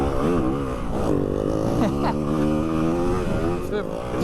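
A 2022 Yamaha WR 250 F dirt bike ridden over off-road terrain, its engine buzzing and revving up and down continuously nearby while a rider's voice speaks over it.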